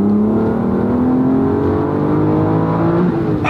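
Manual Aston Martin DBS with a 6-liter V12 revving hard toward red line, a loud steady engine drone with a rising pitch that climbs continuously through the whole stretch, close up, with no talking.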